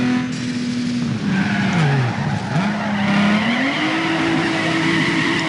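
A car drifting in the Need For Speed Underground 2 video game, with sustained, wavering tire squeal over a revving engine, loud and continuous for several seconds.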